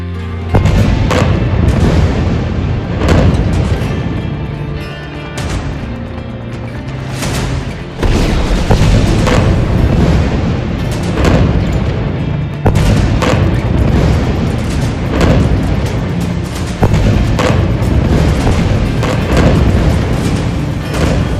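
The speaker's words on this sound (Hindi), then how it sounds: "दूसरी मिसाइल सीधे टैंक को हिट करती है" A missile strikes a tank and explodes in war footage. Heavy, dense booms and rumbling blasts fill the whole stretch, loud and continuous, with repeated surges and no talking.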